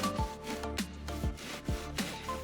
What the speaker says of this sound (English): sawing through the insulation to leave two pieces